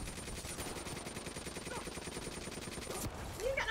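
Rapid bursts of gunfire aimed at the player in the Call of Duty Black Ops 3 campaign, steady automatic shots rattling continuously under game sounds, moderately loud and close.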